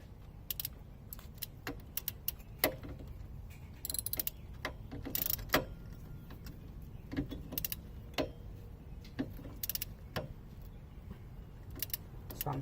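A wrench ratchets in quick bursts of clicks while a lower control arm bolt on a Saturn is tightened, the pawl ticking repeatedly in short runs over a low steady background hum.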